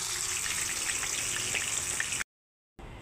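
Fish heads fry in a pan with a continuous close sizzle and light crackling spatter, heard alone and without talk before a brief cut to silence.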